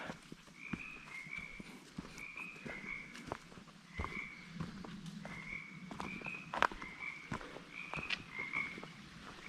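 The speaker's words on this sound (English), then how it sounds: "You hear the sound of the water and the frogs." Frogs croaking near a small pond on a forest loop hike on the Kitsap Peninsula, Washington, with repeated rhythmic croaks from more than one frog over quiet background and scattered clicks and footsteps.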